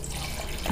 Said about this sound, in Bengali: হালকা জল দিয়ে দিলাম।